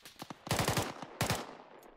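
Automatic gunfire with tracers in ArmA 3 during a US Marines compound-clearing mission in Afghanistan, fairly distant rapid bursts of sharp cracks with short gaps between volleys.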